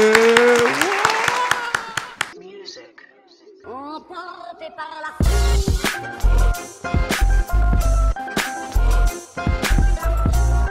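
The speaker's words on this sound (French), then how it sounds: "on l'applaudit bien fort" Talk show studio audience applause welcoming a guest, bursts of sharp clapping arriving after a stretch of voices and music, loud and close.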